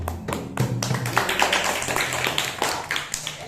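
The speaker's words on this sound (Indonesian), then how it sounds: "Kasih aplaus dulu." Audience applause at an Islamic boarding school speech event: a close, dense burst of clapping and tapping that stays loud and busy for the whole stretch, with no talking.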